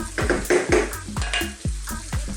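Beef stir-fries in a hot pan, sizzling while being stirred, with repeated scraping strokes of a utensil against the metal and a constant frying hiss.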